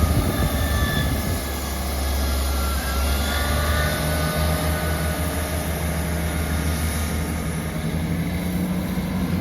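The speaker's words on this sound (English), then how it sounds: "Departing out now is the delayed 1318 ScotRail service from Montrose to Aberdeen." A ScotRail passenger train, a delayed service from Montrose to Aberdeen, departs Portlethen station with a steady low engine rumble that holds throughout at fairly close range, with no talk.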